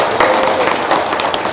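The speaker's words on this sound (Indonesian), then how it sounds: "Tepuk tangan dong." An audience at a religious talk breaks into applause, a dense, steady patter of many hands clapping, loud and close, holding evenly without fading.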